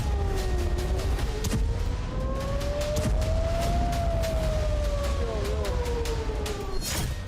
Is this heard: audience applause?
no